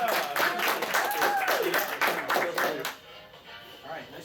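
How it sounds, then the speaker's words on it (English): A convention audience at an anime game show claps for a contestant, a short burst of clapping mixed with a voice over it that fades into quiet room tone near the end. "Round of applause for Mark Brown."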